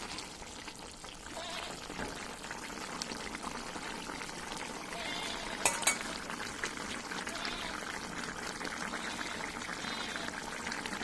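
A fish curry with cauliflower and potato simmers in a pot, giving a steady bubbling, hissing boil with a few sharper pops and clinks midway.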